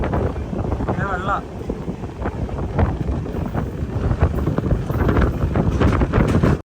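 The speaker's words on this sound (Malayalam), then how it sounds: "എന്താ കാറ്റ്," Strong wind buffets the microphone from a moving train approaching Ernakulam Junction, a loud continuous rumbling roar with gusty swells throughout, cut off abruptly at the end.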